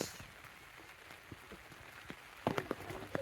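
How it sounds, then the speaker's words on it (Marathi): The first rain of the season falls in a village. Quiet, steady pattering is heard throughout, with a few sharper, louder drops near the end. "एवढ्या दिवसानंतर आज पाऊस लागलाय"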